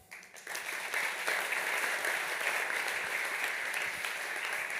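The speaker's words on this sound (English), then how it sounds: "Let's give another round of applause." Audience applause after a security conference talk: clapping swells quickly from a quiet start into steady, dense applause from a room full of people, close and continuous until the end.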